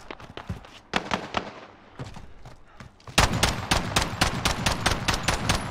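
Enemy gunfire in Call of Duty Warzone: scattered single shots at first, then a rapid, loud automatic burst of evenly spaced cracks that runs on steadily.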